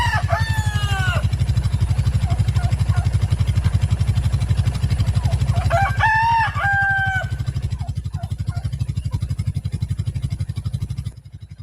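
A rooster crows loudly twice among clucking chickens on a farm, over a steady low pulsing drone that runs throughout.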